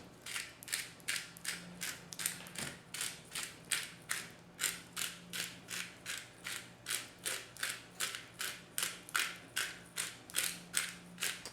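A hand pepper mill grinds a medley of mixed peppercorns in a rapid, regular series of close, crisp ratcheting crunches, about two per second, with a faint hum from a heating wok underneath.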